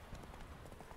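Quick, rhythmic clip-clop of horse hooves trotting in The Witcher 3: Wild Hunt, several hoofbeats in a second, fairly close and clear.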